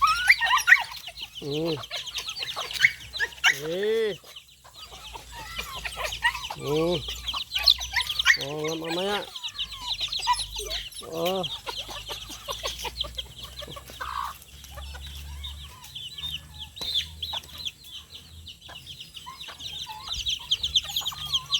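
Chickens cluck repeatedly outdoors, with a rooster-like call now and then, while a person speaks briefly over steady background insect and bird noise.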